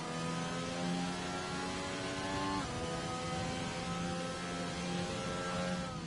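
A simulated race car in a racing video game idles along on light, gentle throttle behind the safety car, its engine a steady mid-pitched drone with small rises and dips in revs, held close and continuous throughout.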